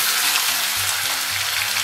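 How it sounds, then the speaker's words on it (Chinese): Pork belly sizzles and fries in hot oil in a wok, a steady dense crackle close up with no voices. "油热后啊，咱们把五花肉给它下里边"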